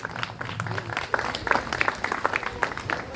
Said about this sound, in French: Applaudissez-le fort.